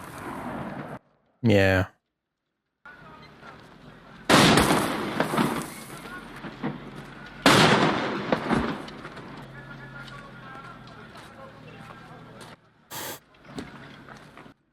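Two loud, sharp gunshot cracks ring out several seconds apart in a scene from the film Schindler's List, each trailing off into a reverberant tail, with viewers talking briefly around them.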